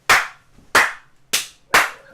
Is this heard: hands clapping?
yes